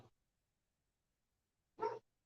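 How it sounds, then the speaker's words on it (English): A dog gives a single short bark, moderately loud and fairly close, following a brief faint sound and a long stretch of near silence. "he usually doesn't bark, but he's barked it"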